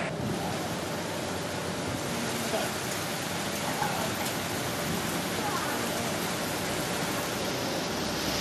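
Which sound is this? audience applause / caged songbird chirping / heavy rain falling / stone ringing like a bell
heavy rain falling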